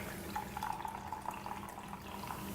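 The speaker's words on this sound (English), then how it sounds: "I wash them under the tap water." Tap water runs over fruits and vegetables in a sink, a faint, steady splashing trickle with small irregular drips.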